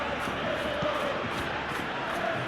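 Stadium crowd in an eFootball match between Barcelona and Real Madrid, a dense steady roar of cheering and chanting from a large distant mass of fans, with no voices close by.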